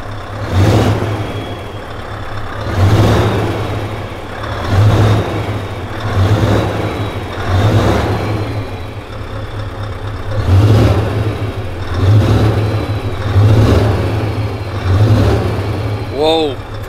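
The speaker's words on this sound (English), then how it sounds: "Okay, I don't want to rev it too hard. And then stacks on, here we go." Scania 770 S V8 truck engine with exhaust stacks, revved repeatedly in loud, rhythmic bursts that swell and fall back to a deep rumbling idle, several revs in a row, close by and alone.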